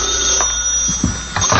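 An old telephone bell rings in a 1952 radio comedy, heard alone through heavy broadcast hiss with no voices.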